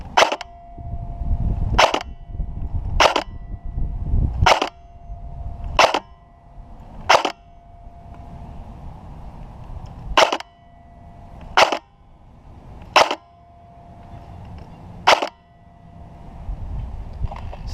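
A Krytac MK2 CRB airsoft gun fires single shots at a distant target: about eleven sharp, loud snapping cracks spaced one to two seconds apart, each with a brief mechanical ring, over a low background rumble.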